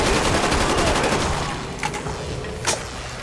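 AK rifle fire in a zombies video game, a loud dense burst of rapid shots that tapers into a few scattered single shots, heard alone with no voices.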